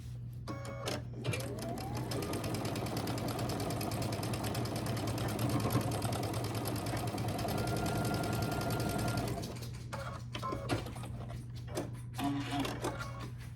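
A sewing machine stitches a quarter-inch quilt seam, running steadily and close for about eight seconds, with brief start-stop bursts of the motor before and after.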